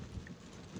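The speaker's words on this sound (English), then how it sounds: "It's raining pretty hard right now" Heavy rain falling around a Tesla driving on the road, a dense steady hiss and patter with low rumble underneath, continuous and fairly faint.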